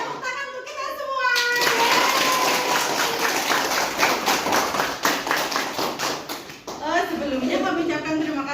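Schoolchildren at a school anti-bullying session clap loudly and together for several seconds, a dense burst of applause with young voices chattering before and after it.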